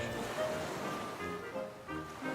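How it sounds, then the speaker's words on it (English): Rough ocean surf at a beach pier in stormy weather, a steady broad wash of waves with gusty wind noise, fairly loud and continuous. "with the rough weather and rough seas, you can be sure our surfers are taking advantage"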